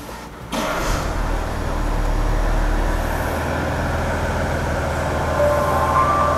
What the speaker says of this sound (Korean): 실내에서는 그냥 바로 시동부터 켜볼게요.